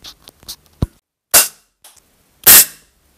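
A GAMO HPA Mi air rifle fires pellets at a spray can, giving a few sharp, loud cracks with quiet gaps and small clicks between them, close and clear.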